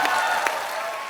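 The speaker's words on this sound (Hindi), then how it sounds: "आप सबकी जोरदार तालियों के बीच" Studio audience applause on a comedy talk show, a brief stretch of loud, even clapping from a crowd.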